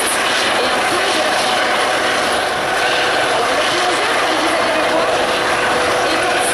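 Helicopter flying at an air show in Guiscriff, its steady loud rotor and engine roar filling the scene continuously with broadband wash and no talk over it.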